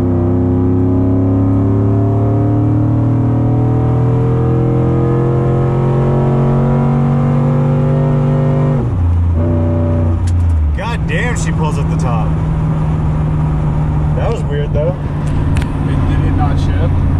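Cammed 5.3 LS V8 in a Silverado pickup revving under hard throttle, the pitch climbing in steps, then a sudden drop as the throttle lifts; voices talk over the later rumble inside the cab.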